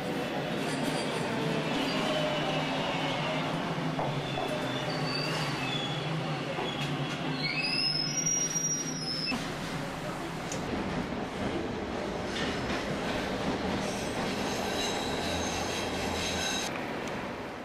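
A Toronto subway train rumbles and clatters into a station with screeching wheel squeals, the noise filling a large echoing space before easing off.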